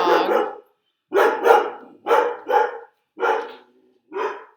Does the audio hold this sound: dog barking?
yes